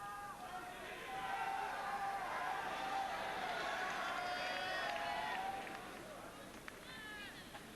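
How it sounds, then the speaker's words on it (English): A tennis crowd reacts to a point in a Capriati versus Serena match: a swelling roar of cheers and chatter from many voices rises, holds for several seconds, then fades into scattered applause. "you can hear what the crowd think of that one"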